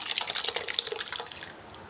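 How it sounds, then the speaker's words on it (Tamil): Lentil cooking water poured and splashing into a pot of okra sambar, a brief steady gush that tapers off, close by. "இந்த டைமில் நம்ம பருப்பு தண்ணி சேர்த்துக்கலாம்"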